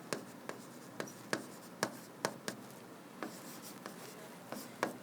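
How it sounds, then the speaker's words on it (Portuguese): Chalk or marker writing on a classroom board during a maths lesson, a series of sharp taps and short scratchy strokes at an irregular pace over steady room noise, close and moderately loud with no talk. "Vamos escrever isso?"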